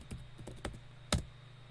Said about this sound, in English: Type in your sudo password.